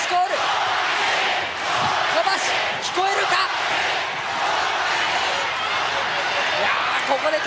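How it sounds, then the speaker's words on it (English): A large crowd at an All Japan Pro Wrestling event chants the wrestler Kobashi's name, a loud rhythmic roar that swells and dips in pulses throughout, with a voice talking over it. "They're chanting Kobashi."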